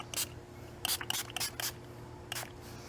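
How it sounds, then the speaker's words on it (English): A spray bottle spritzes alcohol onto a layer of white soap in several short hissing bursts, close and quick, with a brief pause before a final spray. "Now I am going to spritz that with some alcohol."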